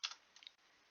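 A few quick clicks from a computer keyboard while typing code, close and fairly quiet, a short flurry at the start and a second small cluster of taps, no voices.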